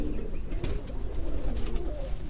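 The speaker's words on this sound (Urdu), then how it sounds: "ایک کبوتر دوستو" A pigeon coos from a rooftop in Gujarat, Pakistan, a close, low, rolling coo repeated several times over faint background noise.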